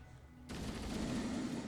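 Gunfire in the Halo CE video game during co-op play: a sudden burst of continuous, dense shooting starts after a quiet moment and keeps going steadily to the end.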